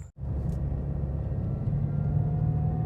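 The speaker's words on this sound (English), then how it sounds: "So here we are driving down the street" A 2015-2021 Subaru WRX driving down a dark street at night, heard from inside as a steady low engine and road rumble that holds at an even level throughout.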